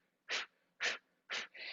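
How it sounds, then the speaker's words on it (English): Three sharp, forceful nasal exhales of Kapalabhati yoga breathing, driven from the belly, in quick rhythmic succession, close and clear, followed by a softer lingering breath. "This is called Kapalabhati breath, or breath of fire."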